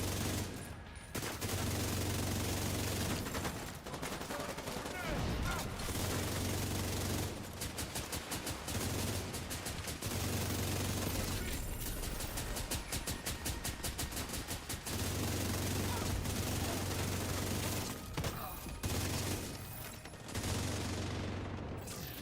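Loud bursts of automatic gunfire from The Division 2 shooter game repeat in long rattling volleys separated by short pauses, with occasional heavier booms between them.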